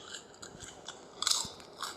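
Close, crisp crunching as insects are bitten and chewed, a run of brittle snaps and cracks with a louder burst of crunches in the middle, no talking.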